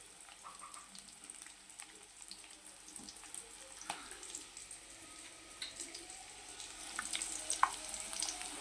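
Eggs frying in a pan for an egg masala fry, a soft, close sizzle with faint crackles and a few light clinks, quiet and without talk.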